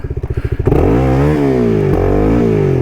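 A CFMOTO 300SS motorcycle engine putters in quick idle pulses, then revs hard and holds a high, loud drone, with the pitch dipping and climbing through the throttle during a wheelie attempt.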